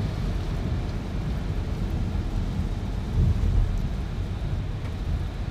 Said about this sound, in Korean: 오늘 비가 많이 오네.